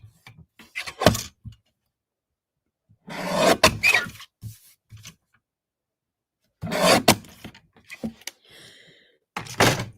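Cardstock is trimmed on a paper trimmer in a card-stamping craft session, four separate rasping slides of the blade in short bursts with quiet pauses between them.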